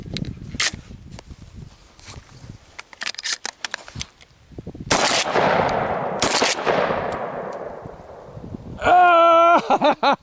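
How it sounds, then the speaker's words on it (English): A 12 gauge shotgun with a 12-inch barrel fires at steel targets outdoors. Several sharp, loud blasts ring out, some with long echoing decay, mixed with footsteps and shuffling, and a distorted electronic tone near the end. "There is so much energy coming out of this 12 gauge, even with a 12-inch barrel."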